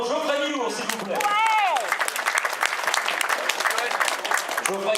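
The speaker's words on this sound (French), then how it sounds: "Les applaudissements pour Geoffrey Millour, s'il vous plaît." Applause from a crowd at a cycling race, dense steady clapping that follows a brief voice at the start, with a short whistle-like tone rising through it.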